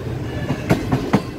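Shalimar Express train of Pakistan Railways rolling slowly out on the Lahore to Shahdara line, a steady low rumble with three rhythmic clickety-clack wheel knocks over rail joints, heard from inside the carriage.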